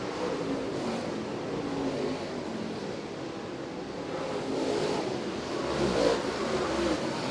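Late model race cars running a feature at Merritt Speedway, a continuous distant engine roar that swells and fades slightly as the field circulates, with no clear single pass-by.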